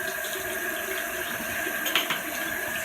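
Water runs steadily from a sink tap while razor parts are rinsed, a constant close hiss with a brief splash near the end.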